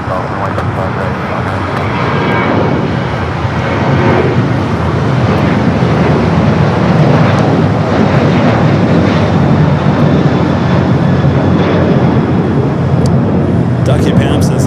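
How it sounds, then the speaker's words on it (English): A Delta Boeing 767-300ER heavy jet arriving at LAX after a flight from Atlanta, its engines a steady, loud, broadband roar with wind noise throughout, while people talk over it. "Next heavy arrival is here on the south side, Delta Flight 501. Flight coming from Atlanta, the 27-year-old 767-300 ER."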